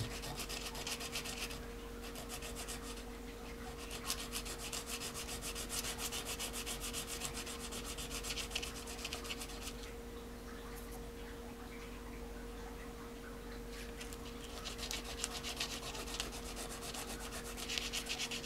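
Sandpaper rubbed steadily against a bone fish hook, a continuous close scratchy rasp that pulses in quick strokes for the whole stretch, with a steady hum running underneath.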